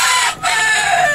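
Rooster crowing loudly and close among backyard chickens kept for manure in Manila, one sustained crow with a brief dip midway, no talk.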